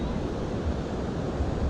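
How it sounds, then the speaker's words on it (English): Surf rolling onto a grey, stormy beach with strong wind buffeting the microphone, a steady broadband roar with low gusty rumbles and no clear individual wave breaks. "It's a bit wild out there actually. Yeah, just listen to the sea."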